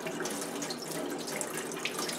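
Water from a tap runs at full force through a spray attachment, pushed along the edge of an N95 respirator mask, making a steady, close, broadband hiss with no talk.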